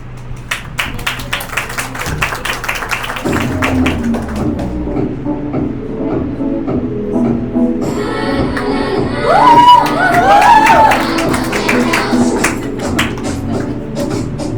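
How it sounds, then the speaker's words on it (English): A school show audience applauds and cheers for a children's fashion ramp walk: brisk clapping at the start gives way to loud pop music with crowd noise and scattered whoops layered underneath. "We would appreciate our audience to keep applauding for class 1"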